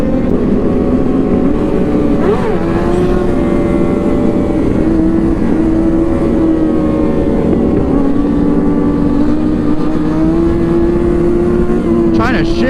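Kawasaki 636 motorcycle engine held at a steady, loud drone during a wheelie on a road, with a slight pitch rise and fall and a short rev blip near the end, running continuously close by.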